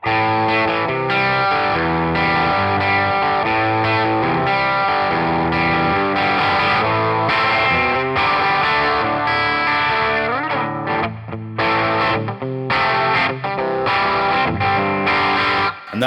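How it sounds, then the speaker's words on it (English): Electric guitar through Amp Academy with a tone between clean and dirty, a continuous loud passage of strummed chords and picked notes with light grit and chorus shimmer, no voices. "this is for the kind of in-between clean and dirty sounds"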